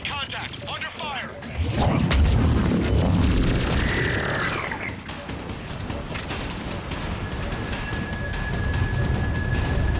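Video game gunfire rings out in loud, dense bursts from about two to four seconds, then settles into a rumbling background of distant combat.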